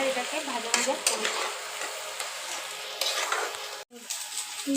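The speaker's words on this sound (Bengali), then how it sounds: "এবার এটাকে ভাজা ভাজা করব।" Spiced mashed potato with turmeric frying in a pan while being stirred: a steady close sizzle with repeated scraping stir strokes, one brief pause near the end, and no talking.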